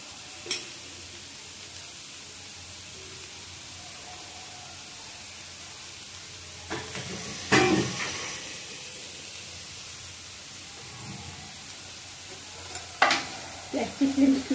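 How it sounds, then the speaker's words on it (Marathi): Grated carrots sauté in ghee for gajar halva over a low flame, with a soft continuous sizzle and occasional scraping stirs of a spoon in the pan, close and quiet, no voices. "तुपामध्ये परतून घेऊया."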